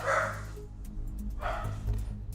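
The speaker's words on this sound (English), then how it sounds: "Bear with my dogs. They're happy to see their mama." Several pet dogs at home give short excited barks and yips in two bursts, close and fairly loud, over a steady low background hum.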